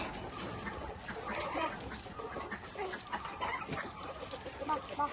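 Country chickens cluck softly as they are let out to feed, a faint, continuous jumble of hen calls at moderate distance with no speech.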